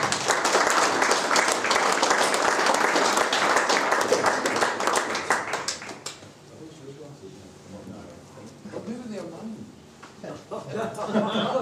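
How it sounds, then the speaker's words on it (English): An audience at a Knights of the Southern Cross talk and beer event gives loud, sustained applause for a professor. The applause fades after about six seconds into laughter and chatter. "Can we all give Professor Haldane a round of applause?"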